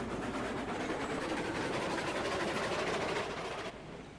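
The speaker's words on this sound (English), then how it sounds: "I can operate your train for you here, here," A steam-era train rolls steadily along the rails in Railroads Online, a continuous loud rumble with rhythmic clatter that holds for several seconds before dropping off slightly near the end.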